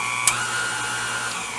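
A stand mixer whirs steadily while mixing pumpkin dessert filling with pumpkin pie spice, a constant close motor hum with one brief sharp clink near the start.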